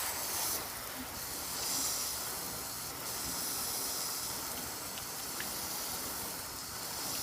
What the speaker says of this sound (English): when I'm spraying the water like this